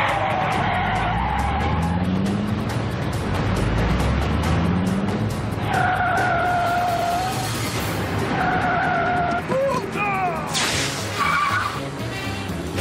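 A car pulls away with loud, sustained tire skidding and squealing, engine noise up close, with several sharp squeal bursts near the end.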